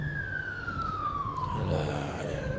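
Wailing emergency siren passing outside, its pitch sliding steadily down, moderately loud against background noise with no talk over it.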